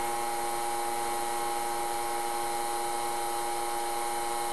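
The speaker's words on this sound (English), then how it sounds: "I welded the seam up on the ring there. Now I'm joining the ring and the bottom of the shank." A steel bit ring is welded to the bottom of a bit shank in a bit and spur maker's shop. A steady, close buzzing hiss with a fine crackle runs evenly throughout.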